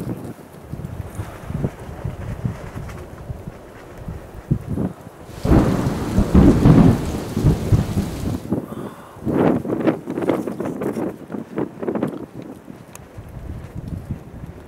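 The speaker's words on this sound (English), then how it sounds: "Sort of hear the thunder a bit." A thunderstorm rolls over a lake at night, with steady rain on surfaces and wind, then a loud, close thunder crack and long rumble, followed by further rumbling bursts.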